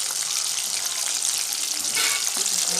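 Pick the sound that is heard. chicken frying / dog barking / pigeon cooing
chicken frying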